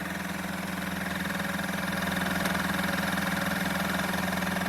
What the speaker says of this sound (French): Après on peut entendre le moteur qui augmente.